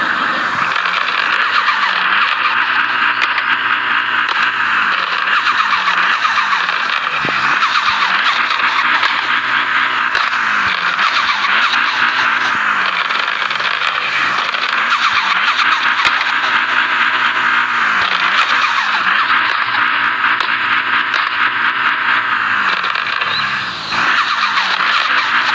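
Interior engine drone of a Toyota in the Car Parking video game, a loud, continuous hum with repeated rising and falling revs through gear changes, mixed with a steady hissing tire-like noise and no talking.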